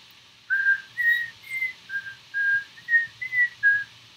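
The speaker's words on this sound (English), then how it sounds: "the warning signal will be whistling" A whistled melody of about nine clear, evenly spaced notes plays the tune of Frère Jacques as a warning signal, clean and fairly close over near silence.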